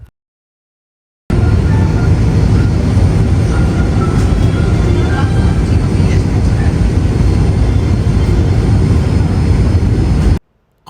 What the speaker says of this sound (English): Our taxi to the runway took only about 5 minutes